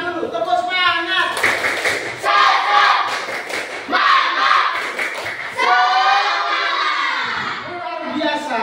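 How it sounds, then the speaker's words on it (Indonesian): A class of children claps a rhythmic spirit clap in unison, chanting along loudly in bursts of patterned claps and shouted voices, close and energetic. "Sekarang kita tepuk semangat dulu, tepuk semangat."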